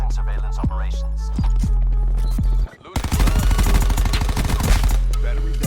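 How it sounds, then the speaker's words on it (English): Burst-fire gun in Call of Duty Black Ops 4 shooting loud, sharp volleys of rapid shots, with one dense barrage after a brief pause, over game sound effects and music. "Oh, I forgot this thing's a burst gun."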